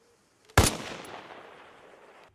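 A single sharp sniper rifle shot firing an armor-piercing round in the video game Arma Reforger, loud and sudden, followed by a long echoing tail that fades over about two seconds.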